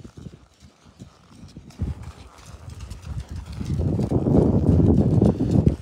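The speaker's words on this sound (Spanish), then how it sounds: "Miren estos caballos." Horses walk during an afternoon ride by a river, their hooves clip-clopping in an uneven rhythm that grows louder and closer, with some wind buffeting the microphone.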